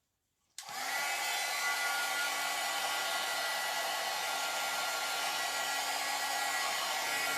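A hair dryer switches on about half a second in and blows loudly and steadily for the rest of the clip, a continuous whooshing airflow with a motor whine, close to the microphone and alone.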